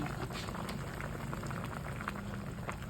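Soft, steady bubbling of a fish and vegetable soup with milkfish and malunggay boiling in a pot, a faint continuous simmer with small pops and no talking.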